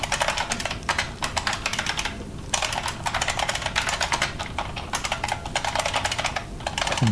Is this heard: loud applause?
no